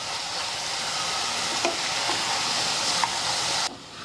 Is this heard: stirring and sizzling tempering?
yes